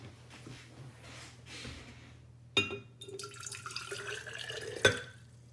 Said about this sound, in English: you're going to take 1 cup of water and you're going to pour it into an empty jar